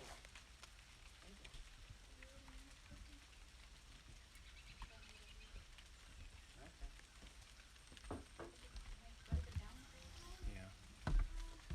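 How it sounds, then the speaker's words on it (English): Light rain pattering on an umbrella at an upstate New York campground, a soft continuous crackle of drops with scattered louder taps growing denser toward the end, with faint voices nearby. "It's starting to rain more."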